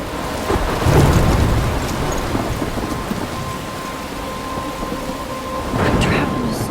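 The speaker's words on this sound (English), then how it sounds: "I'm trapped in a storm?" A video-game thunderstorm with heavy rain: a steady rain hiss throughout, broken by two loud rolling thunder rumbles near the start and near the end.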